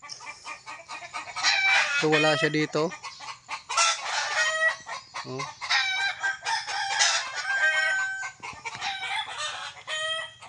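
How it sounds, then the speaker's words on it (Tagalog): Several chickens cluck and a rooster crows nearby, overlapping in a busy farmyard chorus while a person speaks briefly. "andito lang yun kasi maingay yung mga manok"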